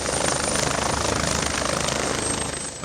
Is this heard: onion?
no